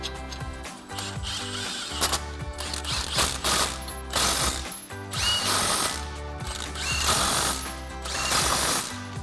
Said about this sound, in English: I have my impact and a 19mm chrome socket. Go ahead and tighten these down.